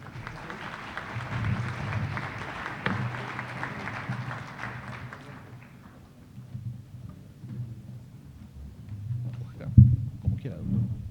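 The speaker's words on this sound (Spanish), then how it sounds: "recibamos al doctor Jaime Araujo Rentería con un fuerte aplauso" An audience at an international constitutional law congress applauds to welcome a speaker, steady moderate clapping for about five seconds that fades into room murmur and a few handling thumps.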